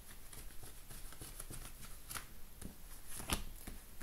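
Tarot cards are shuffled by hand for a reading, a soft, quiet run of papery riffles and flicks with a few sharper snaps, close and alone.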